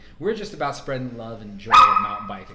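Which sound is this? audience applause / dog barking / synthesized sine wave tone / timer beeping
dog barking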